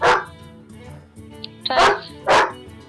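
A dog barks three times in short, sharp bursts spaced about a second apart, close and fairly loud, with quiet background noise between the barks.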